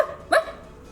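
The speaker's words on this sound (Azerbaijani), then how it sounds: "İt hürməyə başlayır." A single short dog bark in a cartoon, one sharp close yap rising out of quiet and fading quickly, with no voices.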